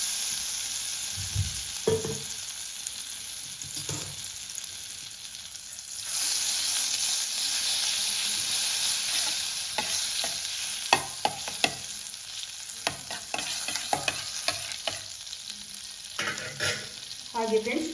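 Butter and oil sizzle steadily in a heated pan over a medium flame at the start of a chicken soup, a continuous hiss broken by intermittent clinks and scrapes of stirring.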